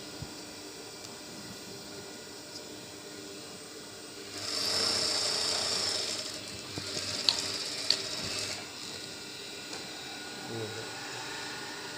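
A sewing machine stitches a seam on trousers in a brief mid-clip burst of fast mechanical whirring and clicking, with quiet room noise before and after.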